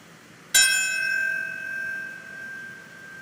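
A single bell struck once at the 9/11 memorial ceremony at the former World Trade Center site in New York, a loud clear strike that rings on and slowly fades alone in the quiet.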